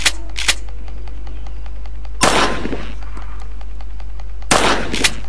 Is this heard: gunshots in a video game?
yes